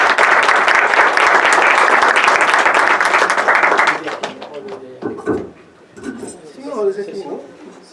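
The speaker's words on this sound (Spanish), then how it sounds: "Un aplauso de bienvenida." Welcoming applause at a university psychology faculty lecture, a loud dense crowd clapping steadily for about four seconds before tapering off into scattered claps and a speaking voice.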